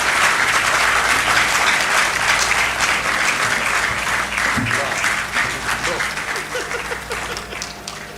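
Sustained loud applause from a large audience at a patriotic rally in Nigeria, dense clapping that fades slightly toward the end, with a voice speaking faintly underneath.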